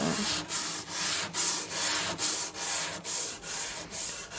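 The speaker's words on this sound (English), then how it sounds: "Carefully brushing the instrument. From the inside, we're just removing dust so we can see the wood surface" A brush sweeps dust from inside a wooden string instrument, making soft, even rubbing strokes that repeat about twice a second, close and fairly quiet, with no voices.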